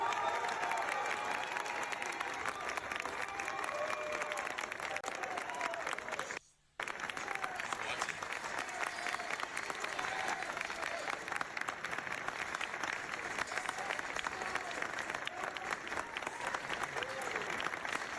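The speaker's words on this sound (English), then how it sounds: "She was only clapping." An audience claps through a celebration in a dense, sustained round of applause, with a faint crowd murmur and a brief cut to silence partway through.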